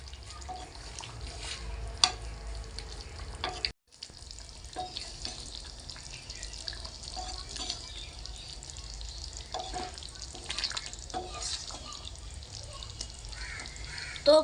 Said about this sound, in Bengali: ঘি ভালো করে নেড়ে চেড়ে সব কিছুর সাথে মিশিয়ে নেব